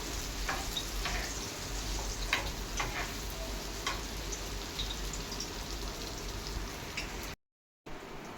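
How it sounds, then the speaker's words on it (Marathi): Mushrooms fry in hot oil in a pan, a dense steady sizzle with scattered crackles and spits, close and continuous, broken by a brief cut near the end. "हे आपले मशरूम फ्राय होत आहे"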